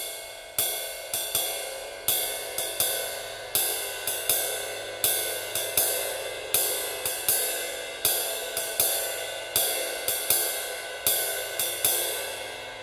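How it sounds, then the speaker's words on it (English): Ride cymbal basic beat played very slowly on a drum kit, evenly spaced bright pings with long shimmering decay, a dotted swing pattern repeating close and alone. "So if we play it very, very slowly on just the cymbal, it sounds something like this."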